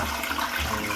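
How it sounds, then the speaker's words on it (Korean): Water rushes steadily into a toilet tank as it refills after a fill valve replacement, a close, continuous hiss and gurgle lasting about a second. "변기통 물 정상적으로 차고요"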